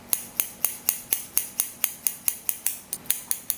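Scissors snip through hair during a self haircut, about fifteen sharp, crisp cuts in a steady rhythm, close and clear, with no talking.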